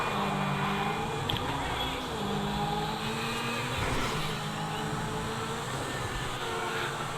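Lamborghini Sesto Elemento engine in GTA V, a steady droning hum with shifting harmonics that rise and fall as the car drives, continuous and moderately loud with no talk over it.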